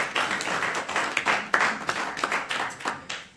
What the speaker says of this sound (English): So round of applause for Damien